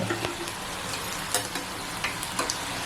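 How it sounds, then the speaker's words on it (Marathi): Chicken 65 pieces deep frying in oil over a low gas flame, a steady crackling sizzle throughout with a few sharper pops standing out, close and fairly quiet with no voices. "फ्राय व्हायला टाइम लागत नाही एक पाच मिनिट फ्राय होतं"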